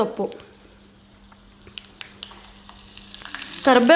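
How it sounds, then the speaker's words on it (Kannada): A tempering fries gently over a low flame for temple-style curd rice: a soft, steady sizzle with a low hum and scattered light ticks and clinks. A voice cuts in near the end. "ಇದನ್ನು ಸ್ವಲ್ಪ ಫ್ರೈ ಮಾಡೋಣ"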